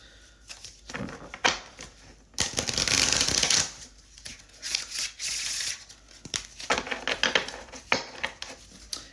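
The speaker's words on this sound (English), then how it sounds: "2 more shuffles." A deck of divination cards is shuffled by hand in a string of quick riffling bursts, with a longer, louder flurry in the middle and short crisp snaps and taps between shuffles, close and dry.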